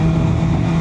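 An MV Agusta motorcycle of about 200 hp judders at low revs, giving a steady, close, loud engine drone with a low, rough pulse that runs unbroken through the short moment.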